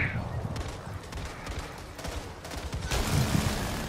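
Heavy in-game weapon fire from a howitzer in Back 4 Blood rumbles as a dense, continuous barrage of overlapping booms and cracks, loud and close throughout with a bright surge near the end.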